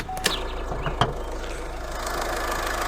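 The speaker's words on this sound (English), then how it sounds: "the engine in this Insignia is the 2-litre turbo diesel" A Vauxhall Insignia's 2-litre turbo diesel idles nearby with a steady low rumble, punctuated early by a couple of sharp clicks.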